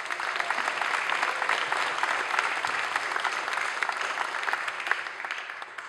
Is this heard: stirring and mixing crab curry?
no